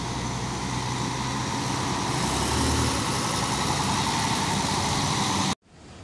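A Garuda Mas bus engine rumbles as it pulls out of Pilangsari bus terminal at night, a steady low drone that swells slightly midway, then cuts off abruptly near the end.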